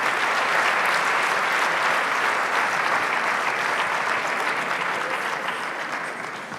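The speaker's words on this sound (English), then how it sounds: "Round of applause to the winners of Miss Geek 2017" A large audience at a Transform Africa Women in Engineering session applauds the winners of Miss Geek 2017, a loud, sustained burst of clapping that gradually fades toward the end.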